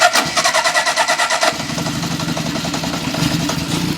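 Original Honda CB750 Four motorcycle engine cranking with a rapid pulsing starter rhythm, then catching and settling into a steady, close, loud idle.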